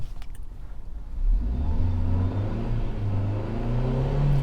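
A Hyundai Grand i10 Asta engine idles, then revs up near the microphone, its pitch rising smoothly in a sustained climb with no talk over it.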